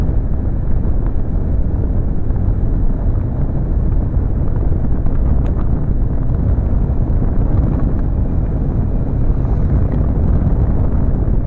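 Strong wind roars steadily across the microphone while riding a motorbike along a road being widened, a constant low buffeting rumble with no pauses, loud and close throughout.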